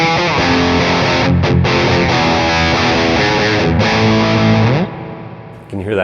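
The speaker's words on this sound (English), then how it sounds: "reverb tailing off there." A distorted electric guitar through a tube amp and effects rig rings out in sustained chords, then the notes fade into a lingering reverb tail that decays toward silence.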